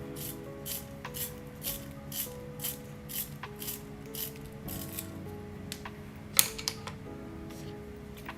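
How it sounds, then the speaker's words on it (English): Pencils are sharpened for a bird-drawing session, giving quiet, regular scraping strokes in a steady rhythm over soft background music. "ahead and getting all these pencils sharpened."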